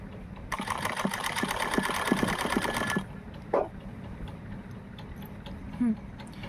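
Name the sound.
sewing machine stitching salwar fabric pieces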